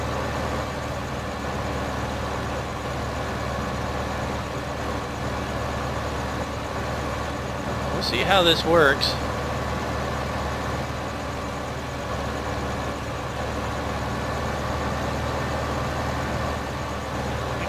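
Tractor engine droning steadily while mowing in Farming Simulator 15, a constant low rumble throughout, with a brief clattering crash partway through; a voice speaks briefly.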